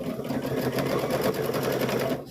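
A sewing machine stitches steadily and fairly close, without a break, sewing a seam on a stuffed bear.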